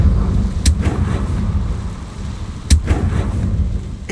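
Two sharp blasts from the Confringo fire spell in Hogwarts Legacy, one early and one past the middle, each cracking loudly over a low rumbling ambience with no talk.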